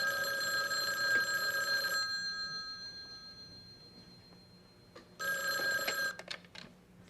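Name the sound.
telephone ringing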